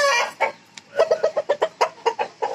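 A young Aseel rooster at a breeding setup clucks close by in a quick, uneven run of about a dozen short, throaty clucks.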